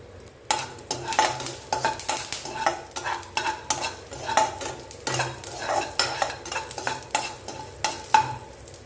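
Cumin, cashews, curry leaves, ginger and green chilies tempering in a pan for wheat rava idli, quick repeated stirring scrapes over a light sizzle, close and steady, no talk.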